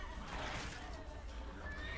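A horse whinnies over a dense, noisy soundscape in the video game Witcher 3, the neigh rising briefly against steady background rumble.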